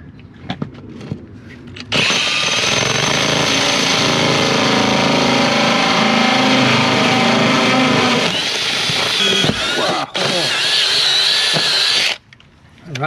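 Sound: hole saw drill bit cutting through wall

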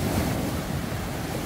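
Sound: ocean waves at Yonghwa beach

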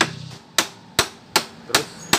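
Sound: hammering the camshaft of a Yamaha Mio M3 scooter engine

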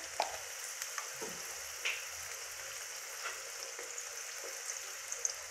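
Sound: potatoes frying in a pan

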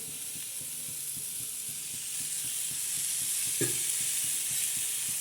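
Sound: onion frying in oil for chili-onion thecha

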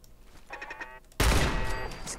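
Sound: turret blown up by gunfire in Fallout 4 video game

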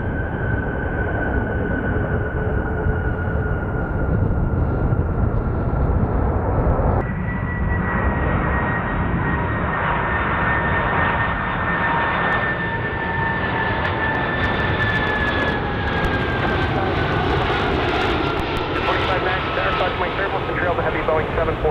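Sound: Delta jet airliner taking off at Chicago O'Hare

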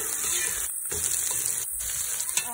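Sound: onions frying in a pan for chicken pulao

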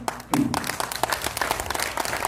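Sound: applause

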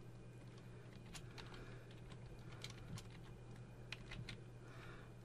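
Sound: typing on a computer keyboard

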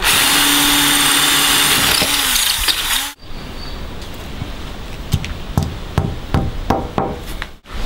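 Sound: power drill drilling holes in a wall

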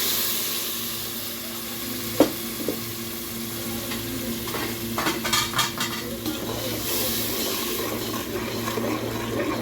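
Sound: frying ground tomato and green chili with onions

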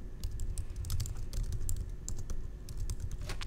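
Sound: typing on computer keyboard

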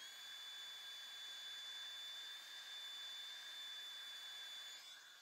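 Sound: heat gun heat embossing a card

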